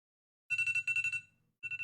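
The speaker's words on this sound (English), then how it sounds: "The timer is up" A timer alarm goes off with rapid electronic beeps in two bursts: a longer run of pulsing tones, a short pause, then a briefer run, loud and alone with no voices.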